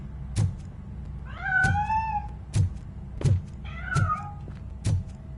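A cat meows twice in the video game Robocop Rogue City, drawn-out rising-falling cries set between regular heavy thuds or footsteps, fairly close and clear.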